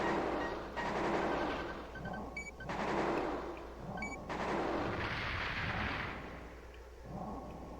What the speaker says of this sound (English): Sucks I'm using the chain gun for this.